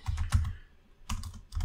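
Keys clatter on a computer keyboard while code is entered for a Solidity smart-contract tutorial: two short bursts of close typing separated by a brief quiet pause.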